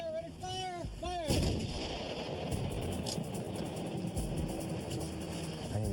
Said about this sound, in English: All clear, ready to fire, fire.